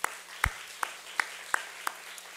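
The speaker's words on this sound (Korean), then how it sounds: "우리 청년들의 축복의 박수 한번 보내겠습니다." Church congregation claps in a slow, even rhythm, about six sharp claps in two seconds; the claps are faint and distant over a low electrical hum.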